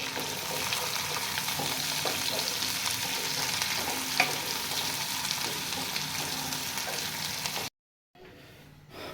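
Carrots, potatoes and peas cook in a pan for Pakistani-style macaroni, a steady close sizzle with stirring scrapes throughout, cutting off near the end.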